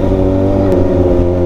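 A Kawasaki ZX6R motorcycle engine revs hard and loud in one short, sustained burst as the bike slides.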